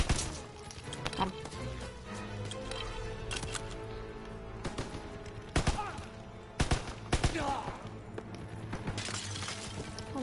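Gunfire in the video game Call of Duty WWII: a dense battle mix of cracking shots and shattering bursts, with a few louder reports standing out over a continuous din.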